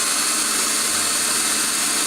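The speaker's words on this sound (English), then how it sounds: "chucking this piece of dowel into a drill like this, and then just taking a piece of sandpaper" Power drill spins a wooden dowel while sandpaper is held against it, a loud continuous whirring hiss with a broad rough texture and no pauses.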